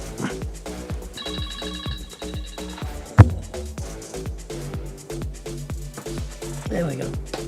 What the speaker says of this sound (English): Marilyn's phone was ringing.